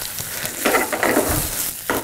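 Chopped tomatoes sauté in a hot pan for mutton chukka, giving a loud, steady sizzle with brief stirring scrapes, heard close with no talking.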